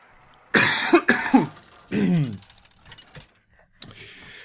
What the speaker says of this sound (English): I have coughed out the remainder of my emotions